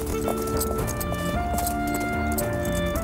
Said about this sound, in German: sprang er aufs nächste Pferd und galoppierte